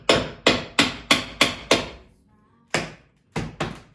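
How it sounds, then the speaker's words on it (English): Old floorboards in an 1860s home are worked loose with a hammer and crowbar: five sharp, ringing strikes in an even rhythm, a pause, then three more blows, loud and close. "you got to use a crowbar and a hammer"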